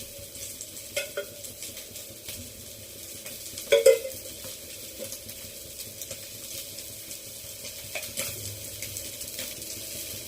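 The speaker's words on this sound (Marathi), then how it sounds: "एक कांदा आणि एक टोमॅटो कापून घेतलाय तो व्यवस्थित तेलामध्ये शिजवून घेऊ" Sliced onion and tomato fry in hot oil in a pan, giving a steady soft sizzle with occasional scraping stirs and one louder clink of a utensil against the pan.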